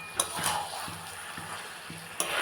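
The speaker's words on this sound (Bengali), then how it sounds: "এখন কষাচ্ছি" Marinated chicken with spices stir-frying in a pan for dhaniya chicken, a soft steady sizzle with a few light scraping stirs, fairly quiet and with no voices.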